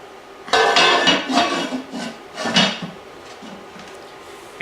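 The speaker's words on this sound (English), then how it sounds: "put the lid on it" A lid set onto a cooking pot for pulled pork clatters a few times, several loud close metallic knocks and rattles in the first seconds, then the sound settles into quiet.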